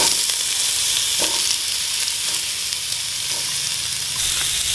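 Chopped smoked beef sautéing in hot oil makes a steady, loud, close sizzle with a bright hiss throughout, broken now and then by faint stirring scrapes.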